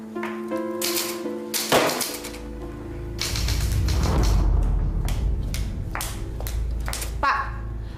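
Clattering keystrokes of an old, rickety mechanical typewriter in irregular bursts, with a dull low rumble and some background noise running through the middle.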